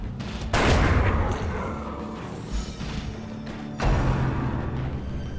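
Gunshot in the Darkest Dungeon video game: a loud, sharp blast followed by a rumbling tail, then a second heavy impact with lingering game ambience, no speech.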